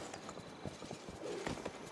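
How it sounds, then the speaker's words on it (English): Horse hooves clip-clop in a steady walking rhythm inside a cozy online game, mid-level and close, over a faint musical background with a brief melodic line. "I'm so glad they put horses in this game."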